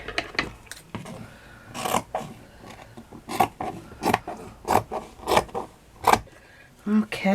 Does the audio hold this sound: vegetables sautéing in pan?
no